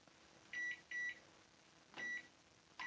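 A microwave oven beeping as buttons are pressed to set it, four short electronic tones in an irregular pattern, two close together then two more after a gap, heard alone against a faint room hum.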